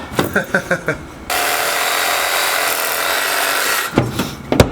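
A saw cutting through generator wiring cable gives a continuous rasping cut lasting a few seconds, framed by brief clattering handling knocks before and after.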